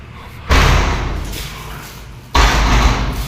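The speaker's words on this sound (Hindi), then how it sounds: "दरवाज़ा बंद हुआ है" Two heavy door slams land about two seconds apart, loud and close, each one booming and then fading through an echoing room in a supposedly haunted house.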